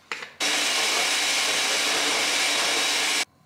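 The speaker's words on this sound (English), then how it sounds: "Now we're just gonna blend her up." A kitchen blender whirring through an almond butter, maple syrup, vanilla and cinnamon mixture, a loud steady motor roar lasting about three seconds and cutting off abruptly, with no talk.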